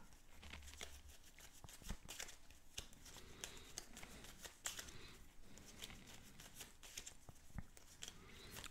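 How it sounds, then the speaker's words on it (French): Tarot de Marseille cards are shuffled by hand, making soft, close riffling and sliding with light papery flicks. The sound is faint and continuous over a quiet background. "le temps de mélanger les cartes"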